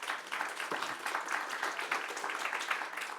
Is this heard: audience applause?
yes